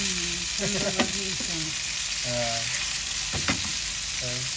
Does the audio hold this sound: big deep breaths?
no